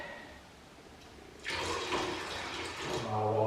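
Water pours into a bucket of emulsion paint, a sudden rushing splash that starts midway after quiet room tone and keeps going steadily. The gurgle deepens toward the end as the bucket fills.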